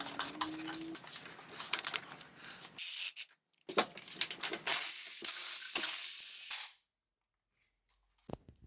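Spark plugs being worked out of a Porsche 928 engine with a ratchet, bursts of metallic clicking, rattling and scraping in uneven spurts, close by, separated by short silent gaps and ending with a faint tap.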